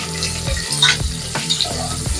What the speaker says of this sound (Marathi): तर आता आपण हा कांदा तेलामध्ये भाजून घेणार आहोत,